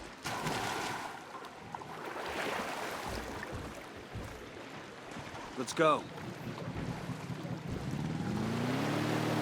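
Boat engine and water wash from a fishing boat moving across water in Ghost Recon Wildlands, a steady rushing drone with wind noise throughout, a voice speaking briefly and a short sharp burst near the middle.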